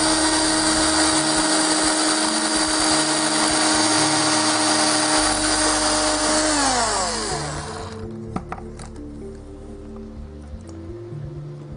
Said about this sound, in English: just pop a pilot hole through all the various holes